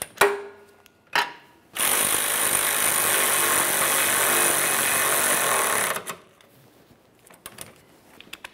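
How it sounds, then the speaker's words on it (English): A power ratchet snugs the rear lower control arm bolts on a 2003-2007 Honda Accord, first a few short clicks and then a loud, steady four-second whir up close, followed by light metallic taps and clinks. "you can snug each of these and then torque them to 43 foot-pounds"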